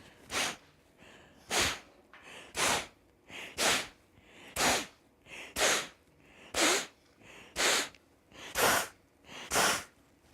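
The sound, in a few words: Kapalabhati yoga breathing, forceful exhalations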